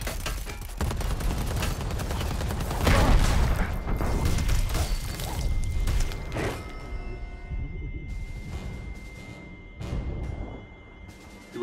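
Grenade blast in the jungle combat game Predator: Hunting Grounds: a loud, heavy boom under gunfire and rumbling, followed by scattered shots and thuds that fade to quieter sounds.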